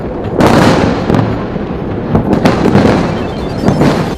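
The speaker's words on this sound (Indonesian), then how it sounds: "langit di atas Sanaa pecah oleh dentuman keras" Loud air strikes over Sanaa, Yemen, set off a rapid series of heavy booming explosions, close and rumbling, with sharp cracks and rolling reverberation layered across several seconds and no voices.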